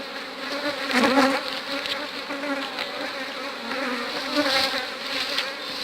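Bees buzz densely around an open beehive being divided into a new colony, a close, continuous droning hum that swells and fades as individual insects pass near.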